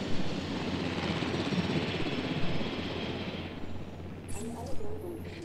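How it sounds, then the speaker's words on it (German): Helicopter in the video game Jurassic World Evolution, a steady broadband rotor and engine drone held at moderate loudness, thinning slightly toward the end with a few faint clicks. "Der Helikopter kommt zurück"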